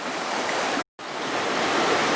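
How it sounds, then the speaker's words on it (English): A creek swollen high after rain rushes steadily in a broadband wash of flowing water, close and continuous, with a brief dropout in the middle before the same full rushing resumes. "you can take a look and see the water's still fairly clear, a little cloudy, definitely running high from all the rain"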